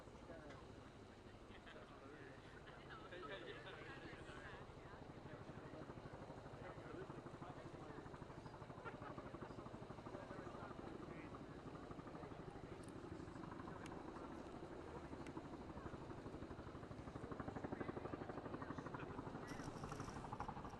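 Press helicopters fly overhead with a continuous rotor chop and engine drone that swells toward the end, while voices murmur underneath.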